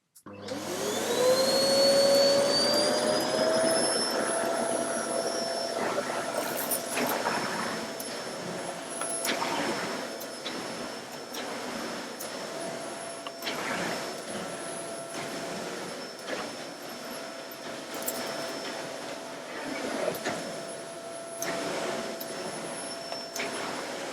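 A Hotpoint SLD10 bagged/bagless trolley vacuum cleaner spins up with a rising whine, then holds a loud, steady roar with a high tone on top, with faint knocks and bumps of the nozzle moving over the floor.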